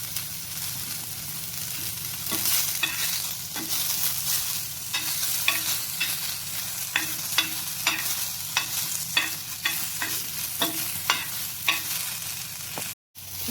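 Moth beans dry-roasting in a pan with no oil, a spatula scraping and stirring in repeated sharp strokes over a steady crackling hiss, close and fairly loud, with no voices.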